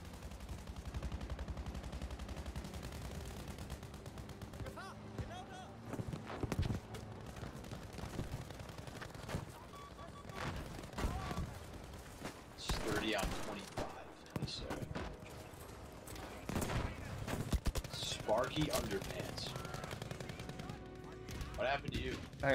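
Gunfire from a shotgun in the video game Battlefield V, with dense bursts of shots and explosions throughout a chaotic firefight while players talk over the action.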